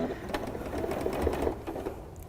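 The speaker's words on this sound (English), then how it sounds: "So bring it right over to my sewing machine, and I'm just gonna straight stitch." A Gnome sewing machine straight-stitches through felt for a zipper pouch, a steady rapid mechanical whirr with a close, even, continuous rhythm and no talking.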